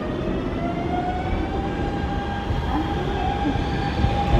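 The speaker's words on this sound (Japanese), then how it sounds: "2番線から電車が発車します。" A Hanshin electric train departs Amagasaki station with a steady rumble, low mechanical roar and faint whining tones, a continuous rolling sound close by.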